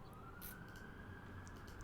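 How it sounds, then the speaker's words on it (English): Distant emergency sirens wail outside, a faint steady rising tone under low background murmur. "we got sirens going where we are"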